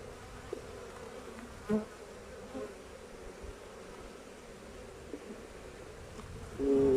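Honeybees swarm and buzz densely around a crowded hive entrance, many of them with pollen-laden legs, making a steady close-up drone throughout with a few brief louder bumps and no talking.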